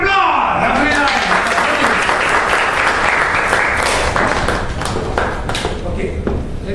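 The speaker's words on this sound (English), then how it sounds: "Give it an applause!" Applause from a seminar audience at a sales master class, dense and steady clapping filling the room for several seconds before thinning slightly toward the end.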